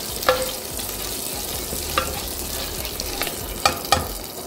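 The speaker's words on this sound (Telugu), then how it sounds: "నేను ఈ గీ దాంట్లోనే కాశ్మీరీ రెడ్ చిల్లీ పౌడర్ వేసుకుంటున్నాను. సో ఇప్పుడు ఇమీడియట్గా మనం ఫ్రై చేసుకుందాము." Kashmiri red chilli powder sizzles steadily in hot ghee in a pan, a close, even frying hiss broken by several sharp scrapes and clinks of a spoon stirring, with no voices.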